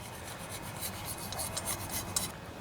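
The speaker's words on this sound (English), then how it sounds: "you definitely want to get all the gasket material out of there" Steady rasping and scraping as old gasket material is worked off the valve cover sealing surface of a Briggs and Stratton OHV Intek engine, a continuous rough rubbing with rhythmic strokes, close and fairly loud.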